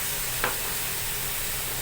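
Meat frying in a pan for Filipino igado, a steady low sizzle and bubbling hiss running throughout with one brief stir near the start, no voices.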